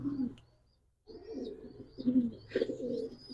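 Pigeons coo softly in a loft among new young birds, low throaty rolling calls repeating at moderate distance with a brief pause early on.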